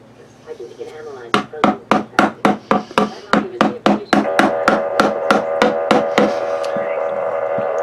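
Lid of a wood treatment can being hammered back on, a fast run of about fifteen sharp knocks, close and loud, followed by a steady low hum.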